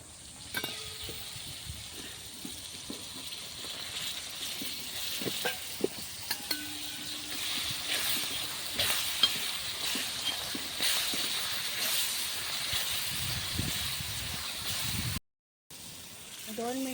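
Oysters (kalva) fry in a pan with mango pieces, giving a soft, steady sizzle with scattered small clicks and scrapes of stirring throughout.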